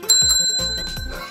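Bicycle bell rung with two quick bright dings, loud and close, alone with no talking.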